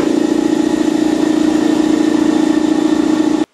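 An air compressor runs nearby with a loud, steady pulsing drone that holds constant for a few seconds before stopping abruptly.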